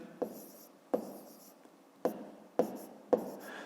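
Pen scratching on paper while a fifth-grade math subtraction is written out, with five sharp strokes each trailing into a softer scrape, close and clear with no talk.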